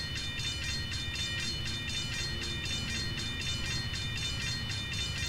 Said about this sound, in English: Hybrid bell noises.